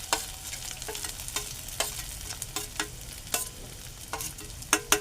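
Kharda spice paste sautéing in a pan for peanut amti, a steady sizzle broken by sharp scraping clicks of a spoon stirring at irregular intervals, close and fairly quiet with no voices.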